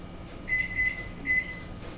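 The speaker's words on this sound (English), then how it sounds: "Timer for 6 minutes." A kitchen timer set while cod bakes gives three short high electronic beeps in an uneven rhythm, clear over faint room hum, no talking.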